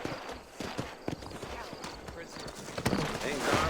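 Horse hooves clip-clop in the Red Dead Redemption video game, a steady run of hoofbeats under continuous talk and game ambience.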